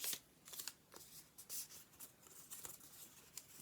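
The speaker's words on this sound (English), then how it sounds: "so I'm going to fold this in half" Green paper is folded in half for a handmade badge, with soft, close crinkles and rustles in a few quick bursts, no talking.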